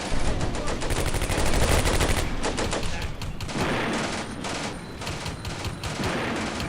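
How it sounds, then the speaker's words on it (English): Dense, continuous video game gunfire and machine-gun bursts roar throughout a Combat Mission: Beyond Overlord battle, loud and unbroken with overlapping rattling volleys. "They are firing."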